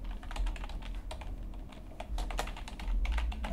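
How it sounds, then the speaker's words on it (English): Close, quick keystrokes on a computer keyboard while Ruby module code is entered, a steady patter of clicks with short pauses and no voices. "So we just type module keyword"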